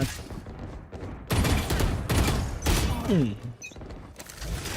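Rapid bursts of gunfire from Valorant, loud and close, arriving in several dense volleys with brief gaps between them, along with clicking game effects.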